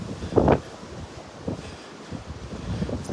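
Wind gusting across the open beach at Delnor-Wiggins, buffeting the microphone in low rumbling bursts, with a faint wash of surf beneath and no voices.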